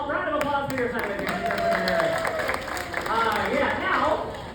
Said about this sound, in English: Round of applause for your sign language.